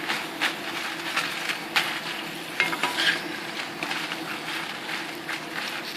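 Chilies frying in oil in a pan on a gas stove kept at a simmer, a soft continuous sizzle and bubbling with occasional brighter crackles and pops, close and moderately quiet with no talking.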